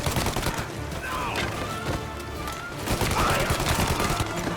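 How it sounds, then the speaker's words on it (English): Tommy gun with a drum magazine in the Mafia remake firing a dense, sustained burst amid loud gunfight noise, close and continuous. "Good old Tommy gun with the drum"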